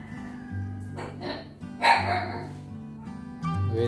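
A pet dog makes short yips and whimpering barks at close range, begging during a meal of tilapia. The cries come in a few uneven bursts.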